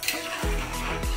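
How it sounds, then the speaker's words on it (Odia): Whole mustard seeds being stirred into a sizzling mushroom curry in a pan, with a steady fry and a few scraping strokes of the spoon, close and clear. "ବର୍ତ୍ତମାନ ସୋରିଷ ଗୋଟା ପଡ଼ିଯାଇଛି, ତାକୁ ଭଲ ଘାଣ୍ଟି ଦେବା।"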